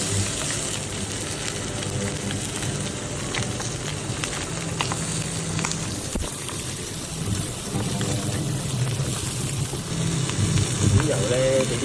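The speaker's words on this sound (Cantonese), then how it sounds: "煎皮先，" Chicken thigh fries skin-side down over medium heat in a pan with oil, giving a steady, close sizzle and crackle throughout, with a few sharper pops near the end.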